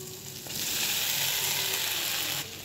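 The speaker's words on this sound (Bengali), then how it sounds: "এবার এর মধ্যে আমি ভেজে রাখা ঢ্যাঁড়সটা অ্যাড করলাম।" Fried okra hits hot masala in a pan with a sudden loud hiss that holds for about two seconds, then drops back to a quieter background sizzle.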